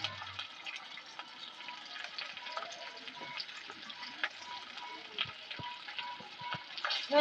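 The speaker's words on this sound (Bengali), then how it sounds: "কিছুক্ষণ ধরে মশলাটাকে কষিয়ে নেবো" Spice masala of chilli, cumin and coriander powder sautéing in a pan, a steady low sizzle with light stirring scrapes, for Bengali vegetarian banana-flower dhoka.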